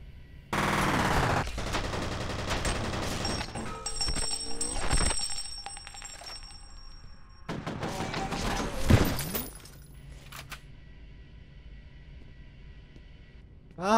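Rapid automatic gunfire and explosive bursts in the shooter game F.E.A.R., loud bursts of several seconds separated by brief gaps, with metallic ringing and game effects between volleys.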